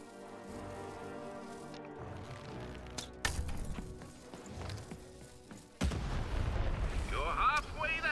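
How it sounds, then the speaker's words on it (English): A cannon fires in the video game Lost in Random, sounding as a sharp loud boom followed by a second heavy blast under music and game effects, with a rumbling tail. "Shoot the button to fire the cannon."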